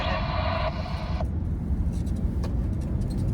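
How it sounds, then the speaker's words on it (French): A car approaches along a road with curves, heard as a steady low road rumble that swells slightly, with engine hum from the vehicle being driven throughout. "Il y a une voiture qui arrive"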